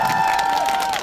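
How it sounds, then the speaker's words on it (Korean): A crowd at a party press conference in Mapo, Seoul, breaks into loud, continuous applause and cheering as the party leader arrives, dense clapping sustained throughout. "큰 박수"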